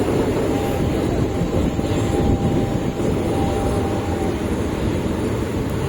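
A train rolls steadily along the track toward Nilambur, a loud, continuous close rumble with a faint high whine running through, no voices.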